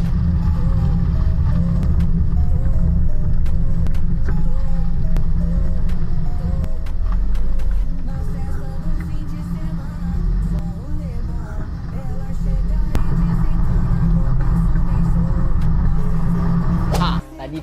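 Car on a road test drive with standard absorbers and springs, a steady low engine and road rumble heard from inside the cabin, constant and fairly loud throughout, ending with a brief drop near the close.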